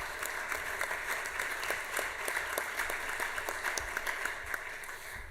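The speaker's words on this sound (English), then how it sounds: "let's give Chairman Hatchett a round of applause for his hard work" Committee members give a round of applause in a hearing room, a fairly faint, distant patter of many hands clapping at a quick, uneven rhythm throughout.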